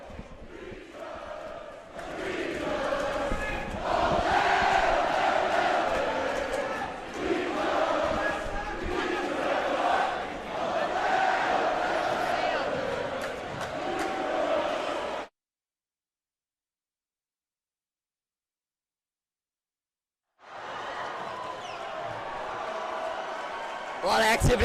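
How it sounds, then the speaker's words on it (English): Basketball crowds in a high school gym, Regis Jesuit against Legend, cheer and shout steadily during a timeout, go silent for about five seconds, then roar back again. "A lot of activity going on between both crowds, as has been all game."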